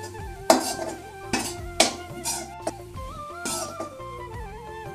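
A utensil stirs and mixes spiced samosa potato filling with lemon juice in a metal cooking pan. Several sharp metallic clinks and scrapes come at uneven intervals over soft background music, with no talk.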